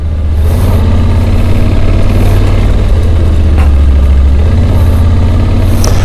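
A motorcycle rides over snow, its engine a loud, steady low drone close by with a constant throbbing rhythm and no talking.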